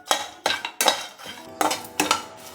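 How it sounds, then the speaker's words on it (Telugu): Dagad phool (stone flower) and marathi moggu spices being dry-roasted in a metal pan, with a utensil scraping and clanking against it in a quick, uneven run of sharp strikes, close and loud. "మరాఠీ మొగ్గ, రాతి పువ్వు, ఇవి కూడా కొంచెం లైట్గా వేడయ్యేంత వరకు వేపుకోండి"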